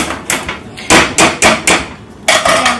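Potatoes being mashed with butter in a pot, a run of loud, sharp thumps and scraping strokes in an uneven rhythm, up close with no talking.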